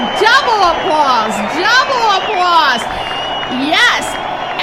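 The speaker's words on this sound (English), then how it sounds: "I think we should give her double applause" Studio audience on a radio talk show cheering and whooping for a guest, with excited voices and shouts over the noise, loud and close.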